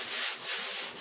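Short rhythmic scrubbing strokes of a sanding sponge against a wooden window frame, a few quick back-and-forth rubs, close and fairly soft.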